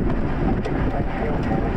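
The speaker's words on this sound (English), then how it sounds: "Some strong wind in here." Strong wind buffets the microphone during a supercell storm chase in Montana or North Dakota, a loud, continuous roaring rumble with no pause.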